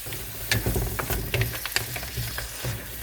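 Scampi and mixed seafood simmering and sizzling in a pan for a cassolette, a steady soft crackle with occasional stirring scrapes and clinks, close by, with no talk.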